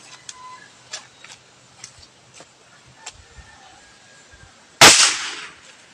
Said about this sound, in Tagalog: napakalakas ng putok